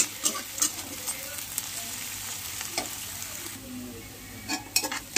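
Browned onions for a jackfruit curry fry in a pan with a continuous soft sizzle, broken by occasional sharp clinks and scrapes of a utensil against the pan, close by and with no voices.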